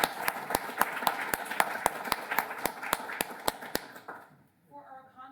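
Conference audience applauding roundtable panelists: a sparse, evenly spaced run of loud individual claps for about four seconds, then the clapping stops and a voice begins speaking.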